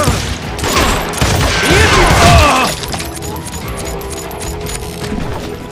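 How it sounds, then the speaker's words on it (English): Gunfire erupts in a chaotic street shootout in the Western game Call of Juarez Gunslinger, with a dense, loud burst of shots and crashing impacts over the first half that drops to a quieter rattle afterward. "They're shooting in the street!"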